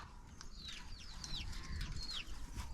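Chickens cluck and chirp in short, repeated calls close by, with a steady outdoor background hum and no talking.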